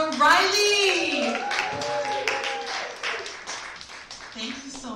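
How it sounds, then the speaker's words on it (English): A poetry slam audience applauds and cheers. A loud voice rises over the opening, then scattered clapping carries on beneath the fading crowd noise. "A round of applause for Riley!"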